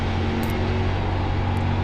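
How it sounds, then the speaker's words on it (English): Steady race car engine and road drone from the iRacing sim, a continuous broadband hum with a low tonal rumble, moderately loud and unbroken throughout, with no voices. "Sometimes the background noise from the car interferes with these voice-activated commands."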